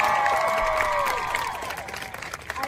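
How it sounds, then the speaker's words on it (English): Audience applause and cheering at a speaking event, a dense wash of clapping that starts loud and gradually fades over a few seconds, with no speech over it. "I do not deserve applause."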